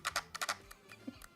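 Mechanical keyboard keys clack in a quick burst of close, crisp keystrokes, a few spaced taps following, with no voices.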